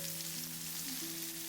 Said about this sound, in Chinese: 把所有的豆腐煎制成视频中这样表面微微金黄